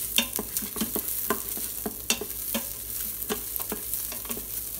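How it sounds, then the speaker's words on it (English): Garlic and vegetables sauté in an Instant Pot with a soft, steady sizzle, while a spoon strikes and scrapes the pot in regular, distinct clacks close by. "Now it's time to add our garlic. This ain't going to take long to saute this up with the garlic."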